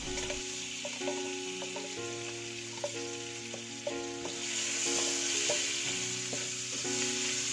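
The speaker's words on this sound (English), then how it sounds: "We are going to saute the garlic." Minced garlic sauteing in a tablespoon of butter in a pan for a vegan cauliflower dish gives a steady, close sizzle that swells after a few seconds, with background music playing throughout.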